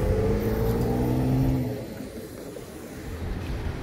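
Cars pass on a nearby street, a loud engine rumble that swells and then fades into lower traffic noise, with no talking.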